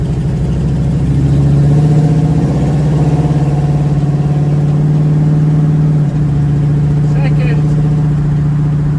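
The engine of a 1936 Chevy coupe heard from inside while driving, a loud steady drone with a pitch shift around a gear change partway through.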